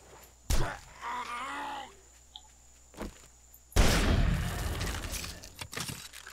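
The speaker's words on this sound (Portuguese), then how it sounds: "Dois tiros." Two sharp gunshots in the zombie survival game 7 Days to Die, one near 0.5 s and a fainter one near 3 s, followed by a loud rushing burst of noise that fades slowly.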